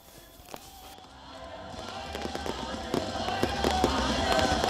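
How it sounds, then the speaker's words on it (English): New Year fireworks burst over Lagos, Nigeria, with repeated sharp cracks and pops over a rising wash of crackle and distant crowd noise, growing louder and denser. "Spectacular fireworks ushered in the new year of 2026."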